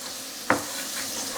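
Beef brisket seared in a pan gives a steady hiss of sizzling fat, with a sharp clink of a utensil against the pan partway through, close and continuous.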